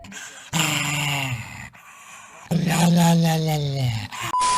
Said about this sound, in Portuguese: tem um cachorro latindo no fundo